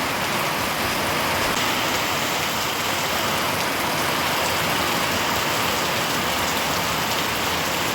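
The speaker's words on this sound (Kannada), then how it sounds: "ಸಡನ್ನಾಗಿ ಬಂದ್ಬಿಡ್ತು ಮಳೆ. ಗಾಳಿ ಭಾಳ ಇದೆ." Sudden heavy rain driven by strong wind, a steady dense hiss of falling water across the whole stretch with no pauses and no voices.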